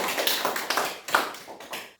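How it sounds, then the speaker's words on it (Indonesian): A class of 8D students claps hands together in a short burst of uneven, overlapping claps, fairly close and moderately loud, fading out after about two seconds. "tepuk tangan untuk kita semua"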